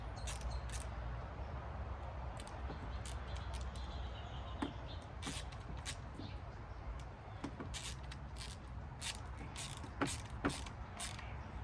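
Parts of a Vital X crossbow being screwed together during assembly: faint repeated metallic clicks and ratcheting ticks scattered over a steady low background hum, close and quiet.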